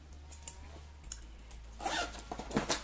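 A small zippered bag being opened or closed, giving a quick rasping zip burst that grows louder toward the end, close by and heard alone without talk.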